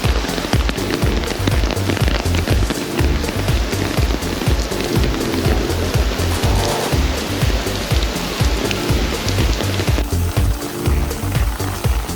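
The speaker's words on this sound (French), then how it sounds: "il pleut, c'était pas vraiment prévu, j'espère qu'on m'entend avec le bruit de la pluie" Steady, heavy rain patters densely on a surface in Valletta, Malta, a continuous close hiss and drumming with no voices.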